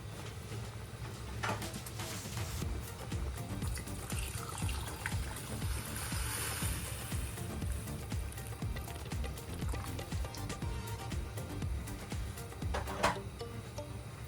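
Water pours steadily into a cooking pot holding a ham bone and bacon, with a continuous splashing, gurgling flow, moderately loud and close, with a few clinks along the way.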